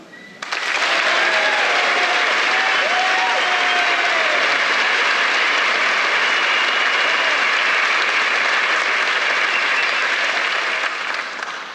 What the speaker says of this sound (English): Let's start it with applause.